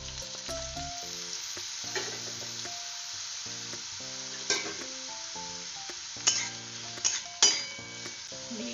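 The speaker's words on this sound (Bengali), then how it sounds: "তো তেল গরম হয়ে গেছে, এবার আমি বেগুনগুলো প্রথমে ভেজে নিচ্ছি" Brinjal pieces frying in hot oil, crackling and sizzling steadily up close, with scattered spatula scrapes and a few sharp metallic clinks against the pan toward the end.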